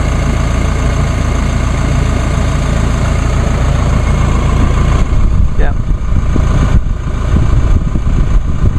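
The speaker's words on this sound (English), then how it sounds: "this is probably by far the cleanest running diesel engine that General Motors has produced" A 2016 Chevrolet Colorado LT 4x4 diesel pickup engine idling steadily nearby with a constant low rumble; a person speaks briefly over it.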